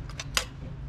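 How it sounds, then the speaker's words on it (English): A classic car's fuel pump ticks in a quiet garage, a few faint, quick clicks at close range over a low background hum. "You can hear the pumper going."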